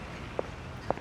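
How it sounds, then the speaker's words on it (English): Two soft footsteps land about half a second apart, faint against a steady background hiss. "Do you hear these footsteps?"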